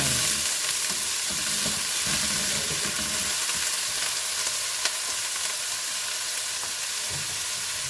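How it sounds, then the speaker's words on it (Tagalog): Cubed ham sautéing in hot oil in a frying pan, a steady close sizzle with crackling pops running throughout, alone with no voices. "nagpainit na tayo ng kawali na may mantika kasi magigisa tayo ng ating lulutuin"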